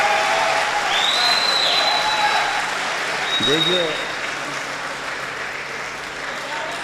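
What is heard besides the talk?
audience applause at an Urdu mushaira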